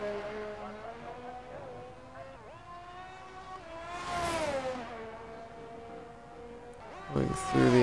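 An AlphaTauri Formula 1 car in the F1 22 racing game at the Azerbaijan circuit, its engine a steady high-pitched whine that rises and falls through gear changes, swelling louder as the car passes and ending on a sharp high rev.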